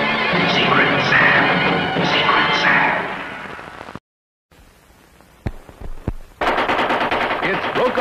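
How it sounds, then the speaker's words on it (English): A Mattel Thunderburp toy machine gun from a 1950s–60s TV commercial lets off a loud rattling burst, then after a brief gap single sharp cracks and another burst, with an announcer's voice woven in. "It's the Mattel Thunderburp with the real vibrasonic sound chamber that's loaded forever and ever."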